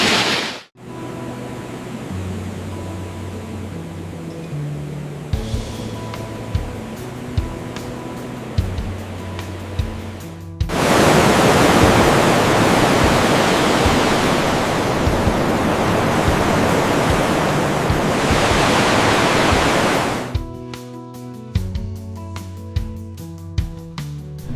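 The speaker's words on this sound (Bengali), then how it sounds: "সকালের আলোয় সমুদ্রের প্রকৃতি" Morning sea waves wash onto a quiet beach with a loud, continuous rushing hiss for about ten seconds, between stretches of music.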